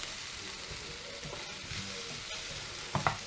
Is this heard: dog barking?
no